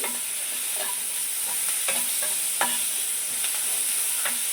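Sliced onions with a little salt sautéing over low heat in a pan for a Kerala fish curry, a continuous close sizzle punctuated by repeated spoon stirs and scrapes, with no talking.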